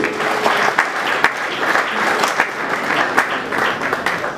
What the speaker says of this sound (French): Ça mérite qu'on applaudisse encore un peu